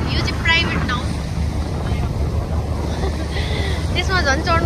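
A private boat moves on the water, giving a steady broad rush of hull and wind noise with gusts buffeting the microphone, while people talk intermittently.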